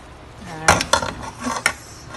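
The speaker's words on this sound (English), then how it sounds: "I'm going to add this greens, which is basically green onion and cilantro, and I'm going to mix it together" A utensil stirs green onion and cilantro into cooled beef samosa stuffing in a bowl, making a few sharp clinks and scrapes with soft shuffling between them, up close.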